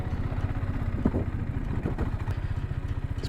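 A motorcycle idles close by at a lakeside stop, a steady low rumbling engine with a regular pulsing beat and some light mechanical clatter throughout.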